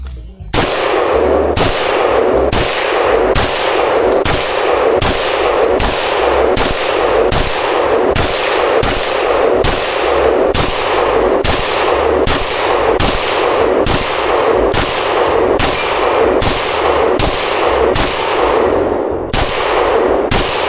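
Rapid, loud gunfire from several firearms, including a 7.62 rifle with a 30-round magazine, shot at targets outdoors: a dense, steady train of sharp cracks that runs unbroken for about twenty seconds, with no talk.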